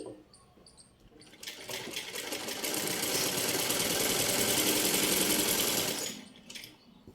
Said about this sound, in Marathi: आता आपण हे शिलाई मारून घेत आहेत सगळ्यात आधी.